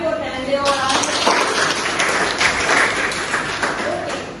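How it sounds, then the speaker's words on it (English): Children give a short burst of dense clapping that lasts a few seconds, close and fairly loud, with some voices mixed in. "Clap for them."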